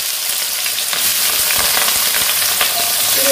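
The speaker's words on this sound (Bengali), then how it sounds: "আলুগুলোকে ভালো করে ভেজে নেব" Potatoes fry in a hot wok with a continuous, loud, close sizzle and faint stirring sounds, with no one talking.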